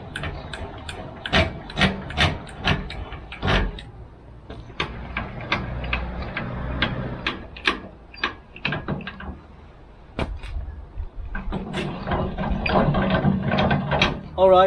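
A NOVAWINCH 12V motorized jockey wheel mini-mover on a caravan is wound by hand, producing repeated close clicking ratchet and rubbing mechanical sounds in irregular bursts, with brief pauses.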